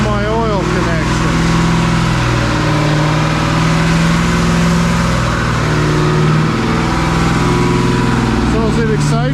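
A freshly rebuilt AMC Hornet engine runs at a steady held throttle during break-in, a loud continuous drone with a low hum that stays even throughout. A voice is heard briefly near the start.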